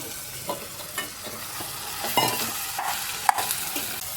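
Mushroom pieces fry in a pan with ginger garlic paste for a mushroom biryani, giving a constant close sizzle broken by a few spoon scrapes and one sharp clink near the end.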